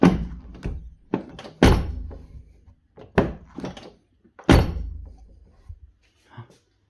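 A Volvo 940 car door, newly fitted, is opened and shut repeatedly: a series of sharp metallic thunks and latch clicks with ringing decay, close up, spaced unevenly over several seconds.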